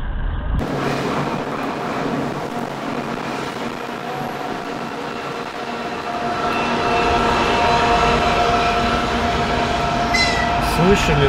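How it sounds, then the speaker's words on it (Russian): A train rumbles past close overhead on a bridge while riding in a taxi, a heavy rolling roar of rail wheels that swells louder toward the end, with a voice speaking beneath it. "Поезд проезжает над тобой."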